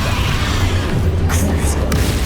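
A Bombarda spell explodes in Hogwarts Legacy as a heavy, low rumbling boom that rolls on for about two seconds, with a few sharp crackles near the end.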